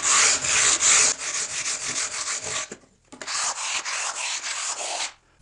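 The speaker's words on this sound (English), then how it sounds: "just a quick sand and a quick scrape" Sandpaper and a sharp putty knife worked over a wooden bunk bed surface to give a rough-sawn texture, close rhythmic rasping strokes with a brief pause midway.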